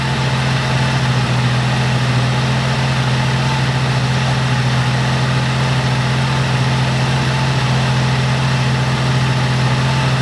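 A 1987 Oldsmobile Cutlass, abandoned and just revived, idles as it warms up, smoking and burning fuel fast; a steady, loud, low engine rumble runs throughout with no speech.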